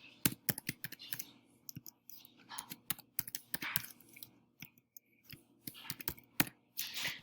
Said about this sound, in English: And we can type that all in.